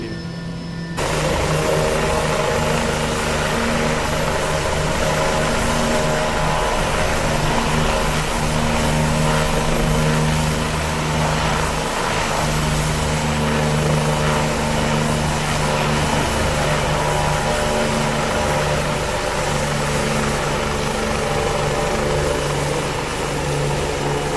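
A Bell 429 helicopter in the X-Plane 11 simulator hovers and lands, giving a loud, continuous rotor and turbine drone with a steady engine whine that holds the same level throughout.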